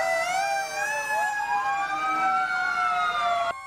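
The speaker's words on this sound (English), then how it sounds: "Flashing lights and sirens." Fire truck sirens wail loudly in overlapping rising and falling tones during a Fire Prevention Week parade, several sirens layered and close, cutting off abruptly near the end.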